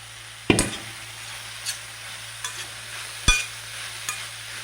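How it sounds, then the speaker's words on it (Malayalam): Masala-coated spring onion stirred into frying onions in a pan for a Kerala-style thoran: a few distinct spatula knocks and scrapes over a low, steady sizzle, close by with no talking. "ഇനി അതിലേക്ക് നമ്മൾക്ക് മസാല പിടിപ്പിച്ച് വെച്ച ഉള്ളിത്തണ്ട് ചേർത്ത് കൊടുക്കാം."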